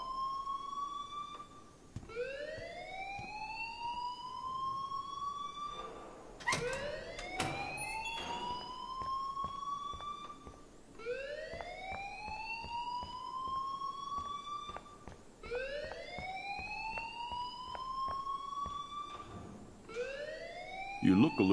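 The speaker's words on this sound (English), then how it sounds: "please turn off that alarm since that's your job" School alarm ringing in the video game Life is Strange: a loud electronic siren that repeatedly sweeps upward in pitch, each rising wail lasting about four seconds and recurring steadily throughout, with no talking.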